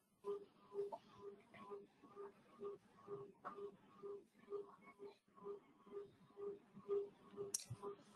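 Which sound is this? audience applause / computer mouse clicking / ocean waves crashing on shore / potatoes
computer mouse clicking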